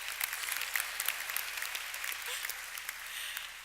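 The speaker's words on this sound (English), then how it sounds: "they deserve an applause" Audience at a graduation ceremony applauds, a dense steady wash of many hands clapping at moderate distance, continuing evenly throughout.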